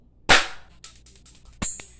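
A BB gun fires in a sharp, close crack, followed by a softer rattle and a second snapping shot a moment later.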